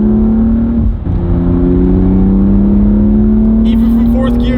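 A new car accelerates hard in fourth gear, its engine drone rising steadily in pitch as it pulls strongly, close and loud throughout, with a brief dip near the start and some high hiss toward the end.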